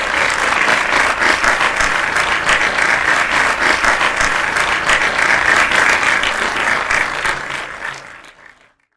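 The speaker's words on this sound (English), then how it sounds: "Would we please take a moment to recognize with the applause track all of those recognized for their individual contributions in committee." A prerecorded applause track played over the sound system at a Model UN closing ceremony, loud dense clapping held steady for about eight seconds before fading out at the end.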